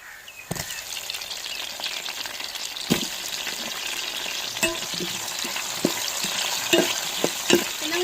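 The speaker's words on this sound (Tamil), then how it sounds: "நம்ம வெட்டி வச்சு தக்காளியும் கத்திரிக்கையும் இந்த எண்ணெயிலே வதக்கி எடுத்துக்கிறோங்க" Onion, garlic, green chilli, tomato and brinjal sizzle and fry in hot oil as a spoon stirs the pan, giving a steady crackling hiss with occasional scraping clicks, close and continuous.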